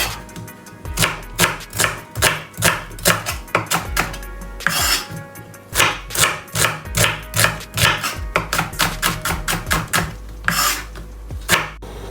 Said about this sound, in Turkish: Şimdi iki tane kuru soğanı da doğrayacağım. Şöyle ay şeklinde doğramanız yeterli.